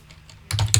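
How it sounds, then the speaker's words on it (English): A few quick keystrokes on a computer keyboard follow a near-silent moment, close and clear, with soft clicking taps. "I can come in here and type"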